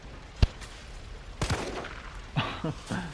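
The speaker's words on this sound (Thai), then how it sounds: "ลองยิงดูดิ ลองยิงดูเผื่อแม่งระเบิด" Gunfire in the Resident Evil 3 remake demo: a few sharp separate shots spread across the moment, with quiet gaps between them and no voices.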